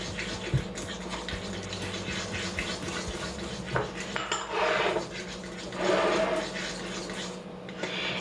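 Oil and chocolate pieces are stirred in a pot just taken off the stove, giving a continuous close scraping and clinking of a utensil against the pot, with louder stirring bursts partway through and no speech.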